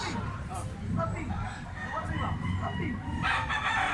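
A Gilmore Hatch stag rooster crows amid farm noise while people talk nearby, the crow partly mixed under the voices.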